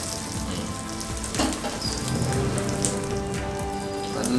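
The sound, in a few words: lake fish egg omelette flipped, sizzling in the pan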